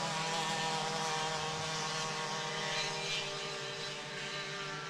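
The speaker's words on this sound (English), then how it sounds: "So the 350 runabouts are back out onto the water." Droning whine of 350-class runabout racing powerboat engines on the water, steady and buzzing with strong tonal harmonics, sustained throughout at moderate distance.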